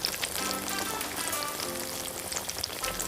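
Churros fry in hot oil with a dense, steady sizzle and crackle, loud and continuous.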